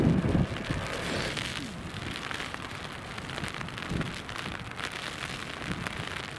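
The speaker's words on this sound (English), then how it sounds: "Love the sound of rain on your microphone" Rain from Storm Ashley beats directly onto an outdoor microphone at Newcastle Airport, a close, steady spattering hiss with occasional heavier drops and gusty rumbles, continuing without speech.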